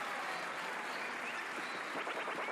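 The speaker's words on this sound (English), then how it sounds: "And the crowd goes wild." Crowd goes wild in the video game Paper Mario The Origami King: dense, steady applause and cheering fill the whole moment at an even, moderate level, with no one speaking over it.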